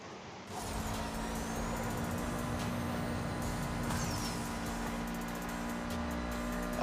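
A car sliding sideways in the racing game Need for Speed No Limits, with a continuous, loud engine roar and tyre noise that holds steady for several seconds with no talk.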